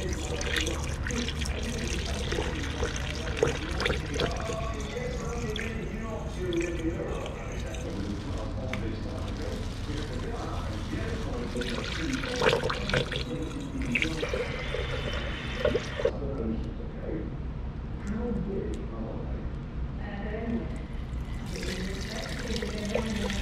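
Engine coolant drains and pours into a container while working on a turbo street car's intercooler setup, a continuous splashing, gurgling stream that shifts in intensity, with someone talking over it at times.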